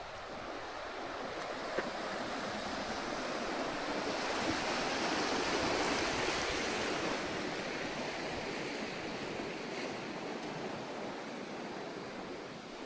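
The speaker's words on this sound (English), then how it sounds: "the sound of the water is just beautiful" Continuous rushing water with steady broadband hiss and faint wind buffeting, no voices, an even wash of sound throughout.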